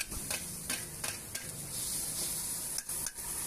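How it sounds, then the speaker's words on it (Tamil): Curry leaves and tomato frying in a pan for an egg stir-fry, a steady close sizzle with a few sharp stirring ticks, no voices. "கல்லை போட்டு கொஞ்சம் கருவேப்பிலை கொஞ்சம் தக்காளி போட்டு நல்லா அதையும் லேசாக ஃப்ரை பண்ணிவிட்டு"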